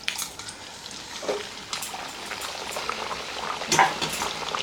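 Bhatura deep-frying in hot oil for chhola bhatura, a constant bubbling crackle close by with a few sharper spatters and stirring sounds, and no voices.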